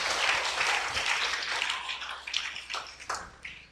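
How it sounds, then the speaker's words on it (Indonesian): Group of Islamic boarding school students applauding during a religious lesson, a burst of clapping that fades into a few scattered, separate claps, moderately close. "Tepuk tangan untuk warga."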